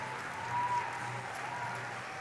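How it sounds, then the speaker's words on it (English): An audience at a robotics competition event applauds the judges, a steady dense patter of many hands clapping throughout, fairly loud and continuous with no pause. "Give a round of applause to our judges, led by Judge Advisor, first alum Rachel Nag"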